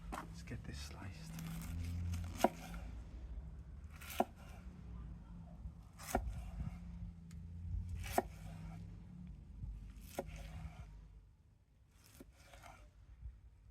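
A razor-sharp knife slices through a tomahawk steak hung over an open fire and finished on homemade charcoal, giving crisp knocks against the board about every two seconds over a low background murmur.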